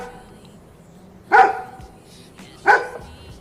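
A dog barks twice, sharp and fairly close, the barks about a second and a half apart over a quiet background.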